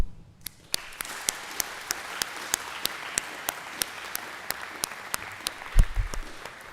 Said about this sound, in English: Please, if you wouldn't mind giving a round of applause to your family, your educators, and your friends